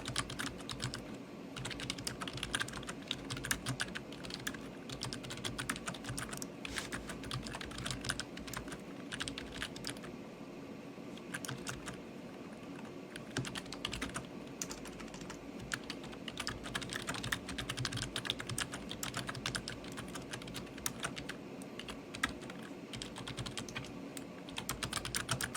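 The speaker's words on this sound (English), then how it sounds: "Sorry about the typing now." Rapid typing on a computer keyboard runs continuously for about twenty-five seconds, a dense, quiet patter of key clicks with brief pauses, close to the microphone.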